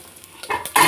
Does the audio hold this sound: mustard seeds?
yes